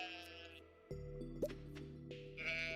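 Sheep on a farm bleating, a couple of short calls rising over quiet outdoor background, close by.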